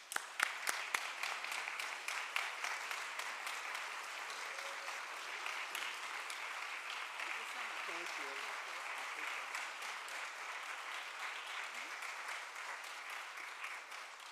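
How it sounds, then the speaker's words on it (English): An audience gives sustained applause for a speaker at a talk, opening with a few sharp claps and then swelling into dense, even clapping from a large crowd that holds steady for the whole stretch. "I ask each of you to stand with me as we raise and give applause to our speaker today"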